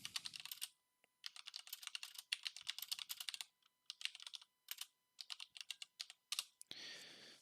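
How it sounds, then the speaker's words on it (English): Rapid bursts of typing on a computer keyboard while searching for information, close and clear, with short pauses between runs of keystrokes and no talk. "so I'm just typing in"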